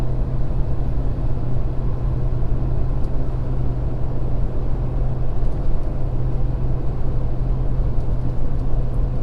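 A 2020 Ford Super Duty Powerstroke diesel pickup towing 14,500 lbs climbs a hill, its engine giving a steady, loud low drone and rumble from inside the cab, with no talking.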